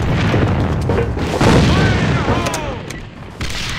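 A heavy boom of a grenade detonating in the online shooter AVA, loud and close, trailing into rumbling debris and scattered gunfire amid tense combat noise.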